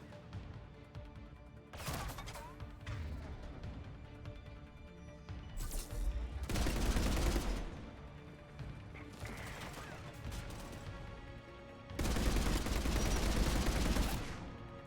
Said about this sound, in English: Crossfire on the left side balcony!